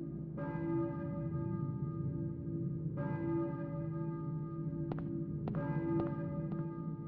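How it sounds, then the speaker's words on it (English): Church bells in the video game Silent Hill ring steadily over a low droning background, several strikes overlapping with rich, sustained tones. "I hear church bells."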